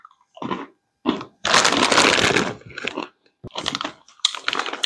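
Crunchy cheddar-flavored Cheetos pretzel snacks being bitten and chewed up close, several bursts of loud crisp crunching separated by short pauses, with no talking.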